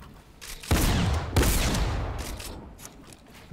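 Gunfire in Fortnite: two sharp, loud shots about half a second apart, each trailing into a rumbling decay, followed by quieter scattered clatter and a faint final crack at the end.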